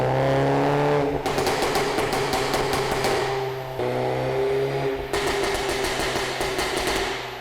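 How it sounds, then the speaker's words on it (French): A modified VW Golf 8 on a dyno, its engine droning loudly at steady high revs, with rapid crackling exhaust pops breaking out in bursts, close and continuous. "on va vous faire un passage au banc, histoire déjà de vous faire écouter le pop"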